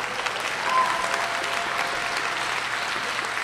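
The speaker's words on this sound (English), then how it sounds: "Don't you think these students deserve another collective round of applause?" Collective round of applause for students at a college honors ceremony, a sustained roar of many hands clapping from a large audience, even and continuous throughout, slightly distant and without speech.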